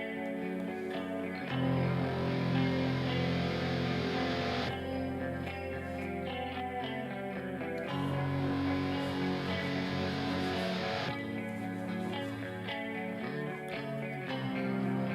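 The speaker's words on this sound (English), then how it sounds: "Ominous bass, distortion." Heavy, distorted bass tones drone in sustained, ominous phrases, layered with gritty effects, loud and continuous with no voices.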